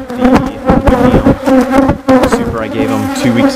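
Loud, dense buzzing of honeybees at a beehive, a steady droning swarm heard up close without a break and with no talking.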